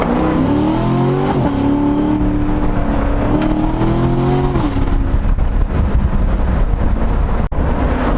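A Corvette Stingray engine roars steadily, its pitch climbing then dropping in steps as it downshifts, with a loud, throaty exhaust droning throughout.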